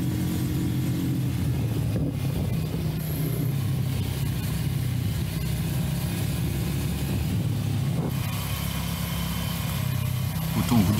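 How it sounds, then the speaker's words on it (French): A Voge Rally 300 single-cylinder motorcycle rides steadily through woods, its engine giving a continuous mid-pitched thrum with a low rumble, close and fairly loud throughout. "je vous laisse écouter un petit peu la sonorité aussi de ce mono."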